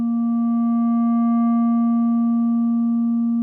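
A synthesizer sine wave under through-zero frequency modulation, a steady sustained tone with faint harmonic overtones, holding evenly for a few seconds with no talking.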